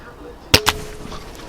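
A BSA Ultra SE air rifle fires at a snowman outdoors, giving a single sharp crack followed at once by a second short impact, both brief and close.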